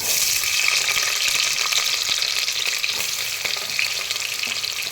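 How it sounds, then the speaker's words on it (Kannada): Onions frying in hot ghee for a vegetable pulao, giving a loud, steady, close sizzle that hisses continuously throughout with no talking. "ತುಪ್ಪ ಕಾಯ್ದಿದೆ. ಈಗ ಈರುಳ್ಳಿ ಹಾಕ್ತಾಯಿದ್ದೀನಿ."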